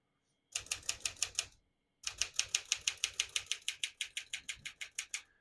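Typing on a 1958 Smith-Corona Silent-Super portable typewriter: a quick run of crisp key strikes, a short pause, then a longer steady burst of sharp, evenly spaced clacks, close and clear.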